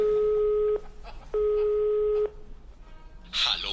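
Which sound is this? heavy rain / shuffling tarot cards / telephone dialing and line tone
telephone dialing and line tone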